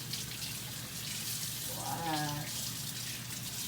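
Aloe vera leaf rinsed under running tap water, a soft steady splash and trickle lasting a few seconds at close range over a constant background hiss.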